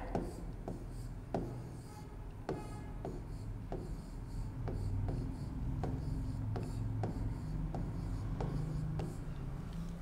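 Chalk or marker strokes on a classroom board come as a series of light taps and short scratches at a steady, unhurried pace, faint and close, with no talking over them.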